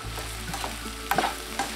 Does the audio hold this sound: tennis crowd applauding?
no